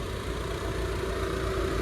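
A 2008 Ford Mondeo engine idling, a steady close low hum with an even tone and no voices.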